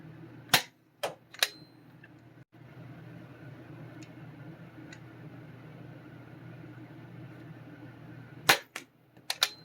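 A modded Dart Zone Storm Squad toy blaster fires darts, with three sharp snapping shots close together near the start and another quick burst of three near the end, separated by a quiet stretch of low background hum.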